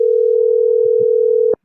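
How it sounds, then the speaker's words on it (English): A steady telephone dial tone sounds while calling someone back, holding loud and unbroken before cutting off abruptly. "let me call this person back one more time, because they just called in"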